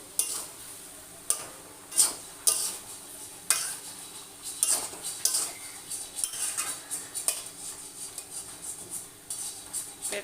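A spoon scrapes and clanks against a cooking pot while vegetables, including potato, are stirred for an oil-free mixed vegetable dish. The strokes come in irregular bursts, close and moderately loud, with no speech.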